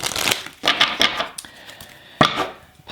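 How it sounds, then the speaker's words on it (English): A deck of cards being shuffled in several quick riffling bursts, close and crisp, with short pauses between. "I want to shuffle an angel card for you guys."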